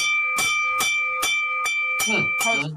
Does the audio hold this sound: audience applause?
no